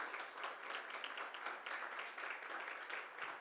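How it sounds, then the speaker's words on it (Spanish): Audience clapping at a report launch event, a steady, even burst of applause from a moderate-sized room heard at some distance, fairly soft and continuous without talk. "Quiero, por favor, ahora pedir un aplauso para Juan Pablo Durán, que viene del puerto"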